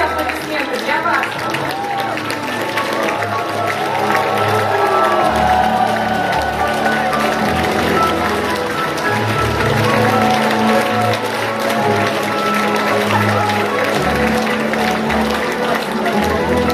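A large conference audience claps and cheers at length, a dense, loud wash of applause with shouting voices mixed in.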